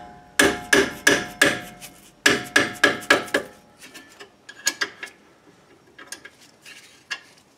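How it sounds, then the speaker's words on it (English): A mallet strikes a wrench on 14mm bolts at the rear wheel hub of a 2007 Kia Sportage: sharp, ringing metallic blows in two quick, evenly spaced bursts, followed by lighter, scattered taps. "I'm going to use a mallet just to break these loose"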